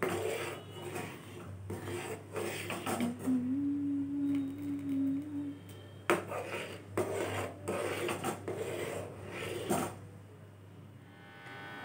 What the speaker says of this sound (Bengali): আর আমি কন্টিনিউয়াসলি নাড়াচাড়া করছি এটাকে, যাতে নিচ থেকে লেগে না যায়।